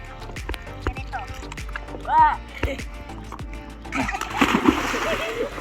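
Someone plunges into shallow seawater with a loud splash and churning after a few seconds of quieter movement; voices are heard nearby.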